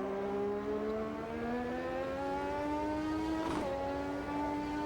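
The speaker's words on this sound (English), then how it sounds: "Trying to blow the engine up like I did on a few of the test drives before." A McLaren MP4/4 Formula 1 engine revs steadily in a VR racing game, its strong rising harmonic whine holding loud and alone, with a brief sharp burst near the end.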